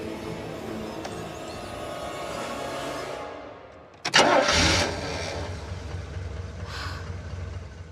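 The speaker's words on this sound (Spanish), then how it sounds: "Tenía pánico de encender el motor." A car engine cranks briefly and catches, roaring loudly for a moment before settling into a steady idle, after a quiet stretch of low background rumble.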